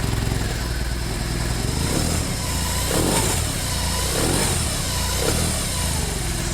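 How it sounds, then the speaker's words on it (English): A BMW cruiser motorcycle with a boxer engine runs loud and close, with a steady throbbing idle and a few light blips of the throttle. "There's something very unique and special about the feeling of a Boxer engine, and BMW does it so well"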